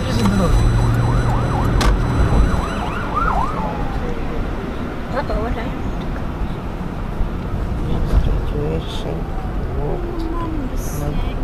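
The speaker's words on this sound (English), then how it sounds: "Ambulance." An ambulance siren wails in rising and falling sweeps, fairly near at first, then fading into street noise while people talk over it.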